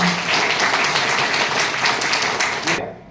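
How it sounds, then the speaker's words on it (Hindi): Loud, dense applause from an audience at a gathering, steady for nearly three seconds before cutting off sharply at the end; a brief voice is heard at the very start. "एक बार जोरदार ताली कर दीजिए।"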